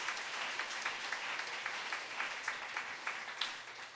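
A church congregation at a Sunday evening service applauds together, a steady, full wash of clapping from many people that carries on for several seconds with no talking.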